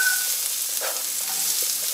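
Onion sizzles loudly and continuously as it fries in oil in a pan, a bright, hissing crackle with no voices.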